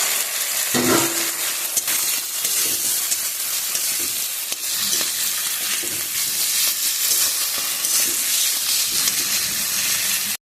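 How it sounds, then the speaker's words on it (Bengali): Fish sizzles and fries steadily in a pan of spiced masala cooked with salt, a continuous close hiss with occasional stirring scrapes and crackles throughout. "কষানো হয়ে গেছে এখন এর মধ্যে মাছগুলো ছেড়ে দেবো"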